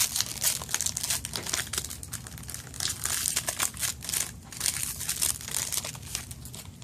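Foil wrapper of a Magic: The Gathering booster pack crinkles and crumples steadily as it is opened, close and fairly quiet, with no talking.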